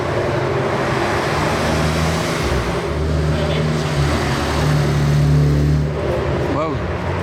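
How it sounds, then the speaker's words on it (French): A Ferrari LaFerrari drives past with a loud, sustained engine drone that swells, then climbs in a brief rev near the end, while people talk excitedly over it. "La Ferrari, vraiment, elle est sortie de nulle part."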